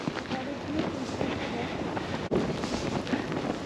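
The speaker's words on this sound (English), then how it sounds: "The snow blowing in." Blizzard wind roars continuously outdoors, driving snow against the microphone in a dense, unbroken rush with one brief dropout partway through.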